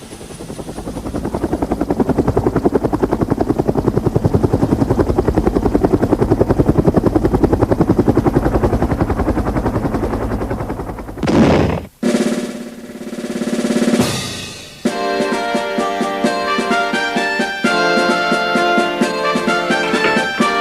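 A voice imitates a helicopter with a loud, steady chopping buzz for several seconds, then breaks off and music starts.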